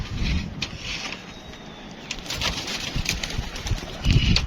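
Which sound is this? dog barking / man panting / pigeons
pigeons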